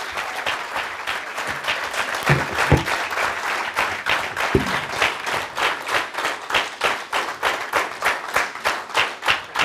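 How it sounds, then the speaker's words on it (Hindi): Sustained audience applause at a live event in Milton Keynes, England, dense clapping from a large crowd holding steady for nearly ten seconds, with rhythmic surges toward the end. "भरपूर तालियां होनी चाहिए।"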